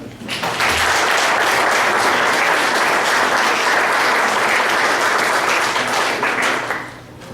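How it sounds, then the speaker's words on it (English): Audience applause for political candidates at a forum, a loud, dense, sustained round of clapping that swells quickly and holds steady before tapering off at the end. "Now we're going to have a round of applause for them."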